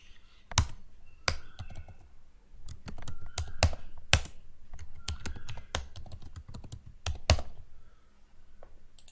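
Code being typed on a computer keyboard for C/C++ Windows programming: rapid, close key clicks in uneven bursts with brief pauses, a few sharper strikes standing out, and no voice over them.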